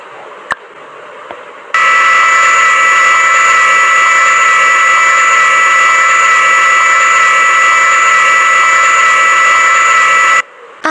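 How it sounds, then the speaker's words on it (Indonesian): A blender runs in the Avatar World mobile game, a steady, loud electric whine with a flat high-pitched drone that starts abruptly, holds unchanged for about nine seconds, then cuts off into quiet. "ASMR blender."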